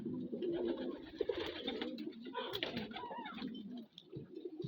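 Pigeons coo softly in low, throaty murmurs, with some overlapping bursts and faint shuffling close by.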